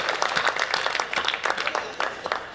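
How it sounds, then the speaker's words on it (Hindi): Crowd at a Hindi comedy poetry show clapping for a performer, a sustained burst of brisk, fairly close applause with distinct individual claps, lasting the whole moment at an even level. "एक बार बढ़िया ताली बजाई"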